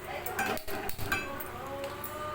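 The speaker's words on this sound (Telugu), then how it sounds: "ఒక కడాయి అయితే పెట్టుకోవాలి" A metal kadai is set down on a kitchen stove with a few clanks and clinks of cookware, moderately close, while a voice talks softly underneath.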